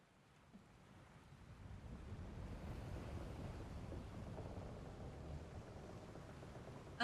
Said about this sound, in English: Getting stormy out here. We're in for a proper storm, it seems.